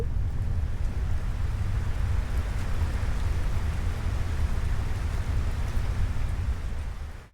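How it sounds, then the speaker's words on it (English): Heavy rain pours steadily in Final Fantasy XVI after an elevator ride outside, a dense and loud continuous hiss that holds unchanged for several seconds before cutting off abruptly. "Raining?"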